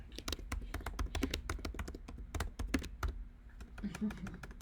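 Rapid, steady clicking of keys on a computer keyboard, close and fairly quiet, continuing without pause.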